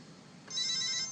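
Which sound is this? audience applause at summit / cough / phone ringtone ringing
phone ringtone ringing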